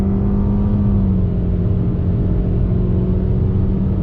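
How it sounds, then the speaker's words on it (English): A 2020 Toyota C-HR with a CVT accelerates under throttle, its engine drone holding a steady rising hum through simulated gear steps, loud and continuous with no talk. "on throttle, the simulated gears in the CVT."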